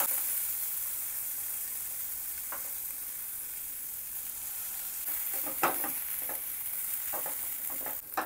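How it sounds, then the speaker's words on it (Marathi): Washed rice and moong dal go into a pot of cooked tomatoes over a low, steady sizzle, followed by several soft clicks and scrapes of stirring toward the end, with no talk. "आपण जे तांदूळ आणि मुगाची डाळ धुवून घेतलेली ती ह्यात ॲड करायची आहे"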